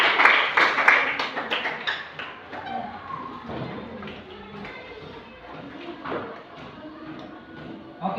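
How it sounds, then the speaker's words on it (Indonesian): Hands clap together in an Indonesian primary school classroom during a science lesson. A burst of brisk, fairly close clapping opens the moment, then fades into children's and a teacher's voices and general room noise. "Tepuk tangan untuk kita semua."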